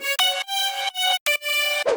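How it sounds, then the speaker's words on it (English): Bright harmonic synth harmony lead in a future house track, playing short sustained chord notes in a rhythmic pattern with brief gaps between phrases, loud and clean with no voices. "And then I added a harmony lead like this."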